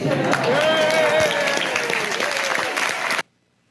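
An audience at a live event bursts into loud, sustained applause that rolls on steadily for about three seconds before cutting off abruptly, with a bright voice-like tone faintly riding over the clapping.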